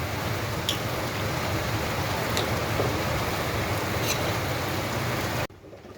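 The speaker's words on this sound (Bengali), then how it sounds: "এখন এটার মধ্যে আমি জল দিয়ে দিচ্ছি।" Water poured into a pan of simmering chicken curry with potatoes makes a steady, close rushing hiss with faint sizzling for about five and a half seconds, then cuts off abruptly; no voices.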